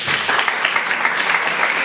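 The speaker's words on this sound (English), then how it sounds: "Let's welcome him with a huge round of applause." An audience at a dispute resolution event welcomes a speaker with loud, steady applause, a dense wash of clapping from many hands throughout with no voices.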